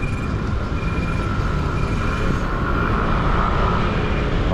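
A tram rumbles past on its tracks in Trieste, Italy, a loud, close, continuous rolling drone with wheel and rail noise and no voices.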